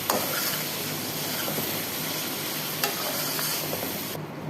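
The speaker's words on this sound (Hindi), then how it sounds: "ग्रेवी को थोड़ा फ्राई होने देंगे।" Onion and tomato masala gravy with pomegranate seed powder frying in a pan, a steady close sizzle with occasional stirring scrapes, no talking.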